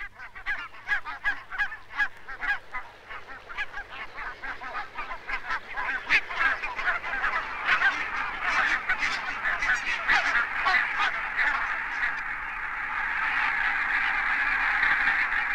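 A flock of barnacle geese (Branta leucopsis) on farm fields honks continuously, with many overlapping yelping calls that swell into a dense, busy chorus toward the end.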